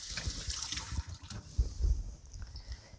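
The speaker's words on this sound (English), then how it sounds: "Give my hands a quick rinse." Hands rinsed under a running kitchen tap while making an orange caramel tart, water splashing and dripping into the sink with a few louder splashes, close and alone.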